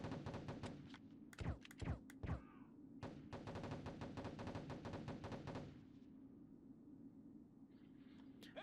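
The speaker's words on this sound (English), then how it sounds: "I'm being shot at, and I don't know by who." Gunfire in the video game Rainbow Six: Lone Wolf, with a few sharp separate shots followed by a long rapid automatic burst that stops abruptly, then a quiet hum, with no talking.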